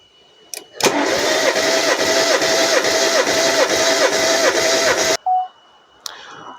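Opel Corsa Utility 1.4i engine cranking with the starter during a compression test, a loud, even, rhythmic churn for about four seconds that stops abruptly, followed by a brief tone and a click.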